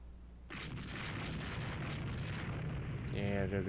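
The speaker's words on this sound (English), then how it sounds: "There's a gun battery, they can explode." A gun battery explodes in a naval strategy video game, a loud, rumbling roar continuing and shifting toward crackling debris near the end, heavy and close.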